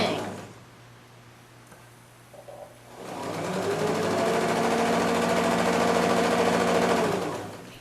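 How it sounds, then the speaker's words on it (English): A sewing machine stitches purple and blue fabric strips together for a rail fence quilt. After a quiet start, it runs in a steady, close, continuous whir for about four seconds before easing off. "I have just finished sewing the purple to the blue."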